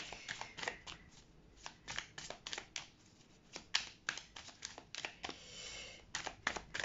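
Tarot cards shuffled in quick irregular bursts of riffling and slapping, close and fairly quiet, with short pauses between handfuls.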